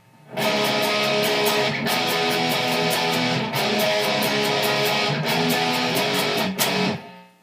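Distorted electric guitar riff played loud and steady, heavy chugging low notes with short breaks between phrases, ending abruptly.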